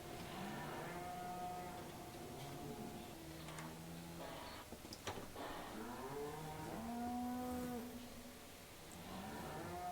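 Cows in Farming Simulator 17 moo repeatedly in a barn setting, several long drawn-out lowing calls overlapping at moderate distance, with a faint ticking in the background and no talking.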